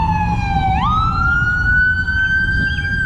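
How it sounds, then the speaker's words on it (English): An ambulance siren wails loud and close, its pitch sliding up sharply once and then holding a steady high tone over low traffic rumble. "Ambulance had to come."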